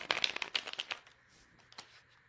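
Tarot cards riffled and shuffled by hand for a card draw, a quick burst of crisp snapping flutters up close, then fading to a few soft slides and taps.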